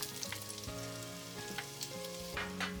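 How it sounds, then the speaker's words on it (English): Onion added to a pan of lightly cooked garlic gives a continuous close sizzle, with a few soft stirring scrapes over a steady frying hiss and no talking. "And then I add the onion to the pan."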